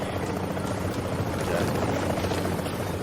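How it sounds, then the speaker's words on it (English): A helicopter arrives in the Dark Zone of a video game, a steady, loud rotor drone and whine filling the whole moment while someone briefly says a word. "So here comes the helicopter."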